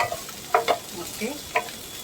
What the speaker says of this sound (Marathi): अशा सगळ्या आपल्या भाज्या छान परतून झाल्यात